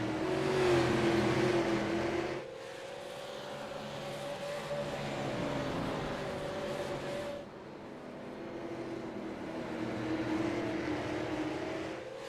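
Race cars roar around the bumpy Oswego Speedway oval, engine notes rising and falling as cars sweep past, loud and continuous with passing surges and no talk over them.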